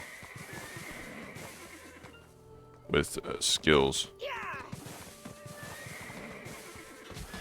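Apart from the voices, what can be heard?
tier 8 horse neighing, from video game Black Desert Online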